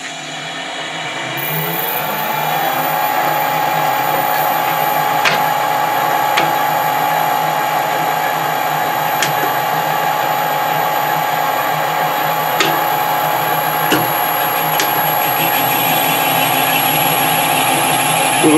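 A surface grinder takes a light cut of a couple of thousandths off a part, a loud steady whine and hum with a faint rising tone and a few sharp ticks as the wheel sweeps across.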